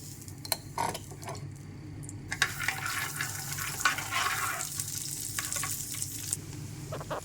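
Cashews frying in hot ghee in a pan give a steady, soft sizzle with brief clinks and scrapes of stirring, close and alone with no voices.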